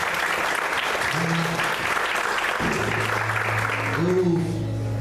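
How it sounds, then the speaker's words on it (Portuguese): A church congregation claps together during an evening service, steady applause throughout while a voice speaks and faint music tones sound underneath. "Você pode aplaudir o Senhor essa noite?"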